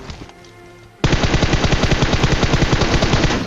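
Rapid automatic gunfire in a mobile battle royale video game, a loud, sustained burst of evenly spaced shots that starts abruptly after a quiet moment and runs continuously to the end.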